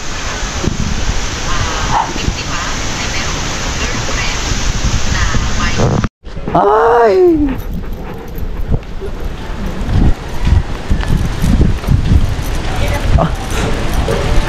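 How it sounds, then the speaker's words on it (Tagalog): Strong gusty wind buffets the microphone at Bukana beach while waves crash nearby, a continuous loud roar with a brief cutout midway; a person calls out briefly. "malakas pa rin ang hangin dito sa Bukana"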